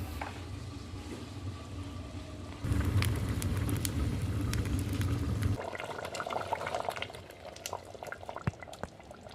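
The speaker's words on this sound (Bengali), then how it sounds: "এবার এটাকেই আমি ঢাকা চাপা দিয়ে বেশ কিছুক্ষণ ধরে আমি জাল দিয়ে তারপর নামিয়ে নেব" Chicken curry simmers in a covered handi with a steady bubbling boil, loud for a few seconds midway, then easing into softer bubbles and occasional pops close by, with no talking.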